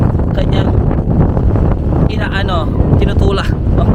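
Strong typhoon wind in Japan roars steadily and loudly across the microphone as broadband buffeting, with people talking over it throughout.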